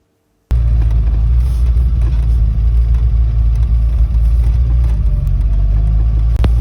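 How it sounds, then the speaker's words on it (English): A Citroen Visa 14TRS starts after a brief silence and runs close by, a steady mid-pitched engine rumble with gentle rises as the car pulls out of a car park, no talking. "Now have a listen to us as we drive out in the Visa."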